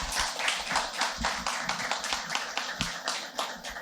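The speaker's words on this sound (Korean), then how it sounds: "박수 한번 부탁드리겠습니다" Audience applause fills a hall at an awards ceremony for a rooftop greening competition, a dense, steady burst of many hands clapping close by and sustained throughout.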